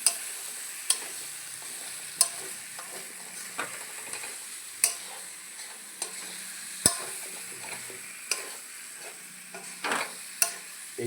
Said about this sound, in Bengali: একদম সুন্দরভাবে মিক্স করে ফেলাইতে লাগবে মশলার সাথে।